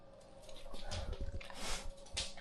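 A dog at dinner time gives soft, faint whines and whimpers, with a few brief low sounds between them. It is heard up close in a quiet indoor room.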